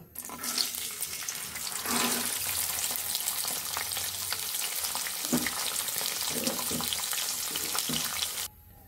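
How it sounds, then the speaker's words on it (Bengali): Dried peas (dabli) frying in hot oil for homemade chanachur, a steady dense crackle and bubbling held at an even level for about eight seconds before it cuts off. "এখন আমরা ডাবলিগুলো ভেজে নিব।"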